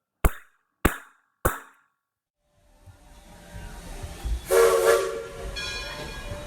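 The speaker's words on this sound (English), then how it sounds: "The train is now leaving the interpretation station." A train sound effect starts with three sharp, evenly spaced clanks, then after a pause a rumbling train builds with a whistle blast, as if pulling away from a station.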